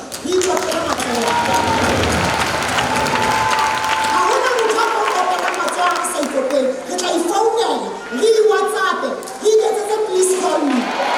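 A crowd claps and cheers in sustained, loud applause that fades into overlapping voices and chatter toward the end.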